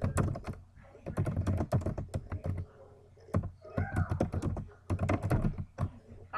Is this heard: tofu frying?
no